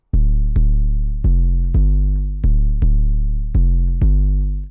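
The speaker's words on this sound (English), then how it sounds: "So this is what the 808 sounded like straight out of Massive." A deep, clean, unprocessed 808 bass from the Massive synth plays a slow pattern of long, booming notes, each with a sharp attack and a smooth sustain that slowly fades.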